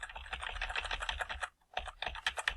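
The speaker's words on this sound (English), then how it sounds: "I can change the size using the bracket keys" Rapid, light clicking of a computer keyboard used in Photoshop, with close tapping in quick bursts, a brief pause, then more keystrokes. Nobody speaks.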